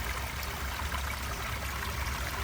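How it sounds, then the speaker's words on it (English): Water flows continuously in a backyard rose garden, a soft, steady rushing and trickling heard from close by, with no voices. "listen to the soothing sound of this water"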